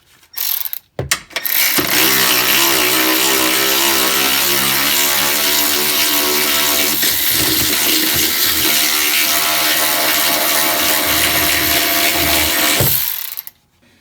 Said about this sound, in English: run it the rest of the way out with our electric ratchet here